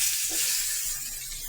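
Pieces of fish sizzling in hot oil in a pan for a bottle gourd curry, a steady bright frying hiss, close and loud, with no talk.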